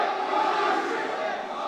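A pro wrestling arena crowd roars and cheers loudly and steadily in reaction to a chair shot, a dense wall of voices with no break across the moment.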